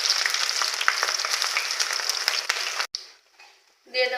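Chopped garlic goes into hot oil for tempering and sizzles with a steady, bright hiss that cuts off abruptly near the end, followed by a brief quieter burst.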